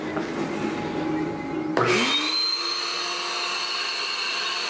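A shop vacuum powers a pit bike flow bench with its bypass open. It drones steadily, then a sharp shift brings a higher whining motor tone that settles into a constant loud hum. No one speaks.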